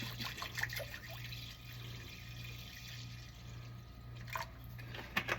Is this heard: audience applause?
no